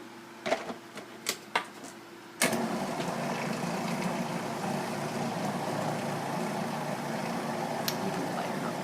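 Blender blending purple sweet potato and banana ice cream, a few sharp clicks and then a loud, steady motor whir that continues to the end.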